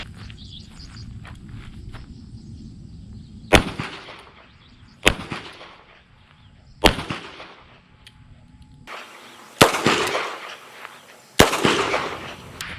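Five sharp gunshots from a small revolver fired in double action at close range, sharp cracks spaced about one to two seconds apart, each with a brief ringing decay, over quiet background.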